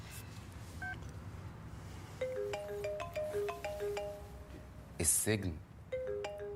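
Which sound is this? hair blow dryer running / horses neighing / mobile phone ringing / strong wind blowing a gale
mobile phone ringing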